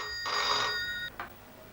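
Telephone ringing on an outgoing call: one electronic ring burst followed by a short second chirp, clear and close, heard without talk.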